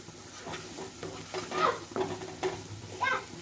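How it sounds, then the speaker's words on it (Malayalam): Curry leaves and masala are stirred in a frying pan, with repeated scraping strokes of a spoon over a soft, continuous sizzle, close and fairly quiet. "എന്നിട്ട് ഇത് നന്നായി ഒന്ന് ഇളക്കി കൊടുക്കുക"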